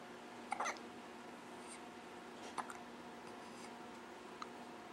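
An 11-day-old newborn baby hiccups softly, with a few brief, faint hiccups spaced a second or two apart over quiet room hiss.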